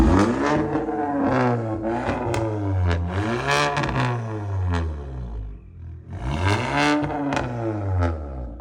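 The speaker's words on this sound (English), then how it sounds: "If I put it in neutral, it revs one." A Kia K5 with its catalytic converter deleted revs in neutral, the engine climbing and falling through several loud, raspy swells, pausing briefly before one last sharp rev.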